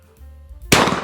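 A single shotgun blast at a skeet range, fired at a clay target; one sharp, loud crack that cuts in abruptly after a quiet moment.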